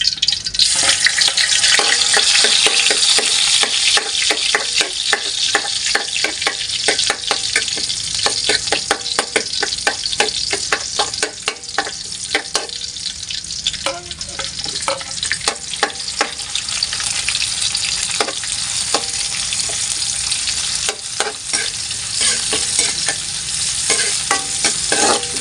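Garlic and onion sautéing in a pan, garlic added first, a loud continuous sizzle and crackle with repeated scraping strokes of a spatula, heard up close for a long stretch with no talking.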